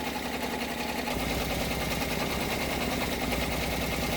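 An embroidery machine stitches a design over an iron-on transfer. It gives a fast, steady mechanical chatter with a rhythmic pulse that firms up after the first second, and no one speaks.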